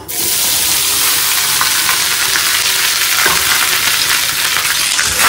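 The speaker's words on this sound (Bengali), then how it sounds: "এই যে এইবার আমি ভাতটা অ্যাড করব" Cooked rice tipped into a pan of hot oil tempered with cumin seeds, frying with a loud steady sizzle and crackle that fills the whole stretch, with faint stirring scrapes and no talk.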